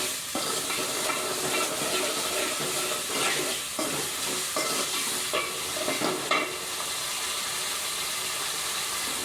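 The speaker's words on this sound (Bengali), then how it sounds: "এরপর ভালো করে সব কিছুকে মিক্স করে নিব লবণের সাথে।" Mutton stirred with salt in a hot pan, a steady sizzle and frying hiss with scraping stirring strokes throughout, close and moderately loud, no talking.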